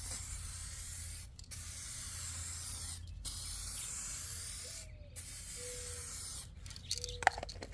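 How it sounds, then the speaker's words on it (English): A steady hiss of an aerosol can spraying clear coat onto a car headlight, continuous with a few brief dips, close by and with no talking. "Spray it while trying to maintain a 6-inch distance and make sure you get full coverage."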